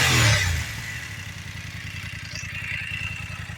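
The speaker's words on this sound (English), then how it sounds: "You can hear the engine's got a little bit more of a mechanical noise to it" A 2022 BMW F900R sport naked motorcycle with a 270-degree crank idles steadily close by, its engine giving off a slightly mechanical clatter after a brief louder burst at the start.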